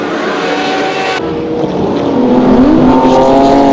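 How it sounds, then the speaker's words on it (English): A new Questa race car charges through heavy rain on a wet track, its engine a loud, steady roar wrapped in a constant hiss of spray, with the pitch sweeping upward near the end. "The new Questa car charges through the rain into the category lead"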